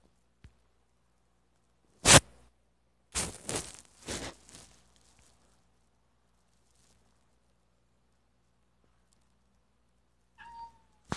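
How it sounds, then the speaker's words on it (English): A cat meows several times indoors: one sharp loud cry, then a cluster of three or four drawn-out meows close together, and a faint short mew near the end after a long quiet gap. "stop meowing, kitty."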